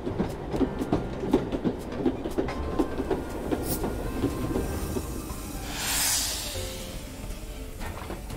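A train in the Wild West video game Frog Detective 3 rolls past with a rhythmic clickety-clack of wheels, a brief hiss of steam midway, and fades as it moves away.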